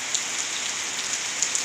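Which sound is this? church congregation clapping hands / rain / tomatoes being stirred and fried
rain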